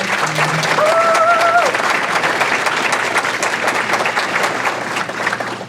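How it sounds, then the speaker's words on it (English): Loud, steady audience applause fills a chamber of commerce annual dinner hall, dense clapping sustained throughout with a brief voice or whistle-like call near the start. "I want everybody to give Francisco a round of applause."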